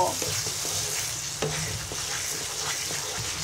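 Melted raw mango pickle with panch phoron powder is stirred in a pan, giving soft scraping and tapping strokes of the spoon over a faint continuous sizzle, with no talking.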